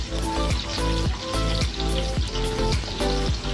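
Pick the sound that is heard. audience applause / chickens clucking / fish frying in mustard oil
fish frying in mustard oil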